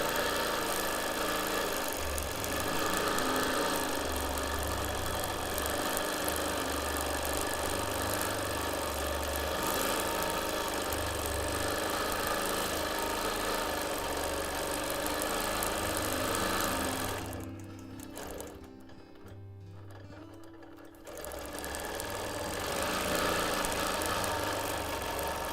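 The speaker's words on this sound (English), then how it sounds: "If you happen to be stitching on a machine that's got channel lock on and off at the touch of a button" A sewing machine runs steadily through straight-line quilting on a Christmas sewing project, a close continuous whir that briefly drops off for a few seconds before resuming.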